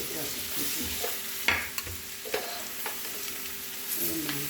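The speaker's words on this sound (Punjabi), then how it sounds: "ਤੇ ਬਸ ਵਿੱਚ ਪਾ ਦੇਵਾਂਗੇ ਇਹ ਤੋਰੀਆਂ ਇਹ ਮੈਂ ਪੈਨ ਰੱਖ ਲਿਆ ਛੋਟਾ" Ridge gourd (tori) cooks in a small pan, with a steady soft sizzle under scattered clinks and scrapes of stirring. Close by, no voices.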